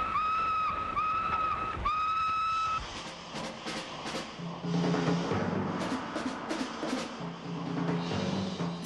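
A steam locomotive whistle sounds in two long, shrill blasts, followed by the clanking and chuffing of the train moving along the rails.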